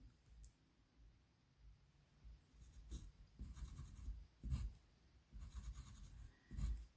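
Pen strokes scratch across paper while music notes are written by hand, in short irregular bursts of quiet scribbling separated by brief pauses.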